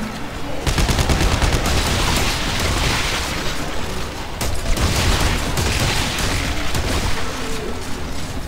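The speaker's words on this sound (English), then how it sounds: "Man, I love this drifting gun." Rapid, sustained gunfire from the drifting gun in the sci-fi shooter Dead Space 3, loud and continuous bursts with dense mechanical clatter running nearly nine seconds, no talk over it.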